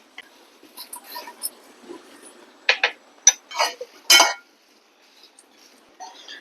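Dried red chillies roasting in a pan with curry leaves, giving a few scattered light crackles and pops over a quiet background, with brief sharper bursts in the middle.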